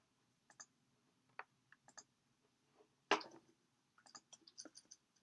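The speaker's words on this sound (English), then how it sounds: "there is a cat that is attempting to operate the keyboard and the mouse." A cat paws at a computer keyboard and mouse, giving scattered faint clicks and taps at irregular intervals with one sharper knock midway, in an otherwise quiet room.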